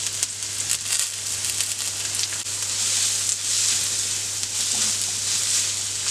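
Crushed ginger and garlic, sliced onion and green chili sautéing in oil for mutton curry, producing a steady bright sizzle up close with faint stirring and a low constant hum beneath.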